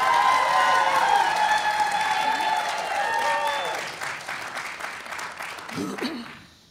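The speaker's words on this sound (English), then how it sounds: "Let's give a big round of applause for our contestants, our hosts, and our sponsors." Sustained applause from a crowd, loud at first and tapering off, with a tone or music faintly underneath.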